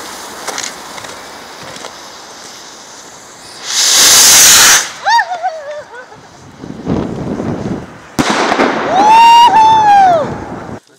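Pyrotechnics are tested outdoors as ground-launched fireworks fire: loud hissing rushes and whistling rising shrieks come in several bursts, with a sharp crack near the end, over wind noise.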